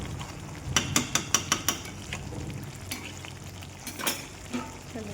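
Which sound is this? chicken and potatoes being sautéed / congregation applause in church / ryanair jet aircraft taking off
chicken and potatoes being sautéed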